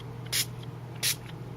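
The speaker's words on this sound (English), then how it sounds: "give it a few good spritzes" Paper sprayed inside a box for a Valentine cardmaking project: two short, close hissing spritzes about half a second apart over a faint steady hum.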